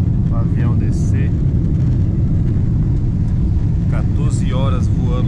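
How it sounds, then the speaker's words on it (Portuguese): Airplane cabin noise on a long-haul flight nearing descent, a loud, steady low rumble filling the space while people talk over it. "Daqui 8 minutos o avião desce"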